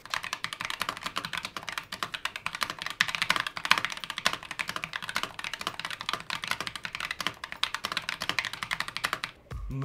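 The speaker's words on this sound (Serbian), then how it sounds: "bio sam mnogo brži na tastaturi, responzivna je automatski, Dule što kaže" Rapid, continuous typing on an ASUS ROG Strix Scope II mechanical keyboard, crisp close keystrokes clattering in a dense steady stream for about nine seconds.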